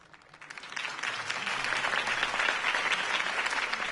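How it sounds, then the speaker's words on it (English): Crowd applause from a cutscene in a Batman video game swells within the first second into sustained, dense clapping that stays loud and steady to the end. "If only Mr. Wayne, my campaign's largest backer, could have heard that applause"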